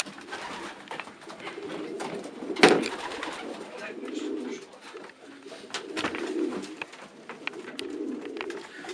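Soft, low coos of Stichelbaut racing pigeons repeat steadily over a busy background of rustling and fluttering, with one sharp burst of flapping midway.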